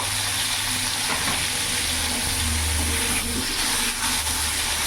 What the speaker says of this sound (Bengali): ঝিঙেটা আর আলুটা ভেজে নেব।